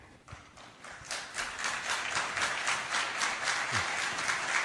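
Audience applause at a Bible lecture event in a hall, a dense, steady patter of many hands clapping that swells after the first moment and carries on without a break, with no speech over it.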